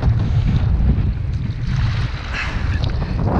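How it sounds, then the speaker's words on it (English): Strong wind buffets the microphone out on the water during a kayak outing, a loud, continuous roaring rumble with gusty swells and faint water wash beneath, no speech. "The wind, it's brutal."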